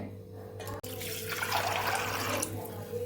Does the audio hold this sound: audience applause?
no